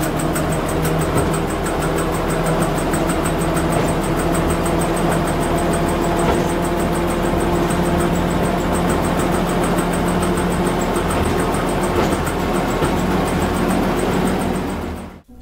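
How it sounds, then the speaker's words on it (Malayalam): A heritage train's 100 horsepower six-cylinder petrol engine runs with a steady, continuous drone and vibration, loud and close throughout, with no talk over it. "ഹൺഡ്രഡ് ഹോഴ്സ് പവർ 6-സിലിണ്ടർ പെട്രോൾ എഞ്ചിനാണ് ഈ ട്രെയിൻ്റെത്."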